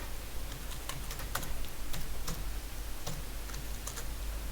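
A password is typed on a computer keyboard: a string of light, irregular key taps close by over a steady low room hum, with no voices.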